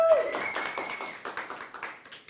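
Audience applause for a singer at a television show, a short burst of clapping that starts strong and thins out into scattered claps as it fades.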